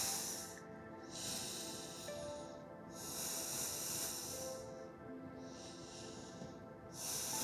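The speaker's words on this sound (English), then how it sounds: "Taking 6 breaths here" Slow, deep breaths during a yoga pose for the splits, audible close airy inhales and exhales rising and falling in a steady rhythm over a faint background hum.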